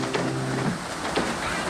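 Steady rain falling on an RV camper, a dense continuous patter with a few brief low hums and knocks mixed in, close and fairly even in level throughout.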